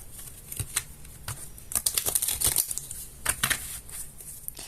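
Tarot cards being shuffled by hand, a series of close crisp riffling flicks and papery snaps in irregular bursts, with a denser flurry in the middle and a few softer taps between, no speech over them.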